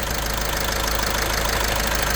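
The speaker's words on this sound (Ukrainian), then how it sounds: "заведений двигун" A 2013 Volkswagen Caddy engine idles steadily up close, an even mechanical rumble with a faint rhythmic ticking, continuous and unchanging for the whole stretch.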